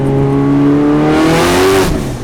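A Nissan 350Z drift car with an SR engine revs hard and loud up close, its rising and falling engine note held steady through the whole stretch with no talking.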